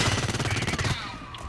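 Video game gunfire: a rapid burst of close, loud shots in a tight repeating rhythm for about a second, then fading into a ringing tail.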